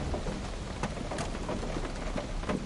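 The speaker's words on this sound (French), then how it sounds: "la pluie." Steady rain in the video game Opus Castle pours down in a continuous hiss, with a few sharper drops and splashes standing out, no voices present.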